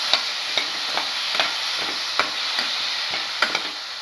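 A spinach and cottage cheese mixture is stirred in a pan, with a close, regular series of scraping taps over a low, steady hiss.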